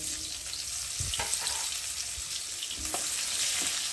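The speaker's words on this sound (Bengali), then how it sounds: "আর এখন পেঁয়াজগুলো দিয়ে ভালো করে ভেজে নেব" Chopped onions frying in hot oil for a Bengali rohu fish dish give off a steady, close sizzle, broken by a few soft stirring scrapes. Nobody speaks.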